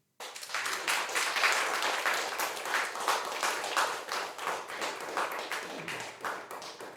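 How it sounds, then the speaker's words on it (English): A small audience at an arts night in King Edward Street Chapel claps for a performer, individual hand claps distinct and rhythmic, rising quickly, holding steady, then thinning toward the end. "massive round of applause to that amazing performer"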